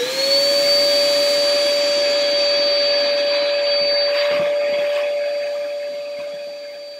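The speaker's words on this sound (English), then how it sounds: "Walks over, gets his shop vac" A shop vac runs steadily with a high, whining tone and a rushing airflow hiss, close and loud, gradually fading toward the end with faint rustles underneath.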